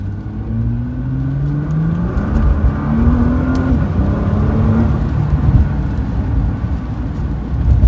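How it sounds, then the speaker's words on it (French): Fast car, a Tesla or a Nissan GT-R, accelerating hard: a loud, continuous engine and drivetrain roar with pitch sweeping upward in several steps, heavy rumble throughout, no talking. "ça reste une accélération qui est assez linéaire en fait"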